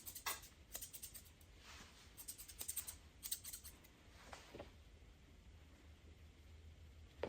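Small grooming scissors trim the hair on a dog's ear in quick bursts of crisp snips, with quiet pauses between, close and soft against low background hiss.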